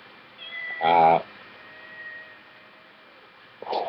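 A single short cat meow rises clearly above a quiet background, followed by a faint second sound near the end.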